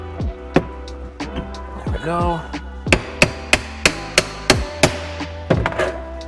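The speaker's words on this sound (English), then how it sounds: "I'm using a 1/2 inch extension and the hammer and just driving them in the rest of the way." A hammer strikes a 1/2 inch extension to drive wheels into place on an XC800 mod, landing about a dozen sharp metallic knocks, mostly in an evenly spaced run near the end, with a brief spoken remark in between.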